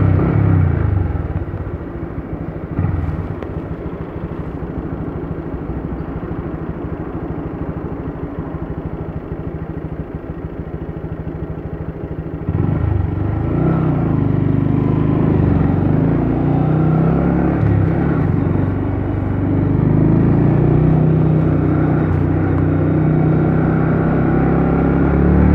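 A Honda 125 MSX motorcycle rides through town, its small engine droning steadily at first, then rising louder and rougher partway through as it accelerates, with no voices over it.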